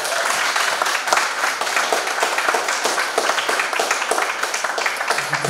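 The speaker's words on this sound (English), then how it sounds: "Church, can we give this rock star one more round of applause?" A church congregation at a Sunday sermon gives a rock-star guest a loud, steady round of applause, dense clapping from many hands filling the room for several seconds without letup.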